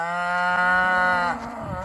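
Cattle on a farm give a loud, close, drawn-out moo that holds steady, then wavers and fades toward the end, with no voices.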